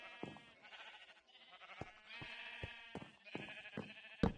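Quiet, repeated bleats from sheep in a Minecraft-style video game, several wavering calls in close succession, with soft clicks between them.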